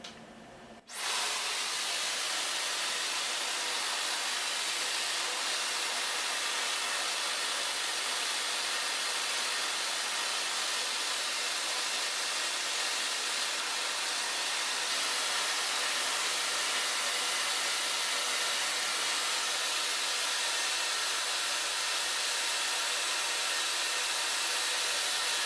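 A Luxx Air Pro 2 hair styler set to third heat and third fan blows hard and evenly. After a brief click at the start, a loud, constant airy rush runs close and unbroken with no talking.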